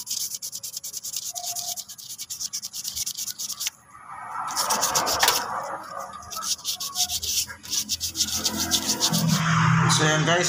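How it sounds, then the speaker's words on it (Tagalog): Fine sandpaper rubs rust off a brake part in quick back-and-forth strokes, a close raspy scraping that pauses briefly, then resumes with heavier, denser passes. "Kaya lang gamitin natin yung pinong yung pinong liha."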